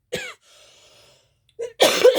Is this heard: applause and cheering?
no